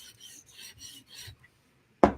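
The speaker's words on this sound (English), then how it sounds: "Doesn't even really need to polish the bevel, just quick scratch pass." A Medford flipper or PM2 DLC knife blade is drawn across a 400 grit stone on a Hapstone RS sharpener in four soft, rhythmic rasping strokes, followed by a single sharp scrape or knock.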